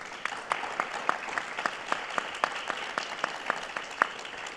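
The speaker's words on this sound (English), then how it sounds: "can we give them all a round of applause" Audience applause for a panel of speakers at an AI discussion event, a steady patter of many clapping hands with sharper individual claps standing out, heard alone without talk.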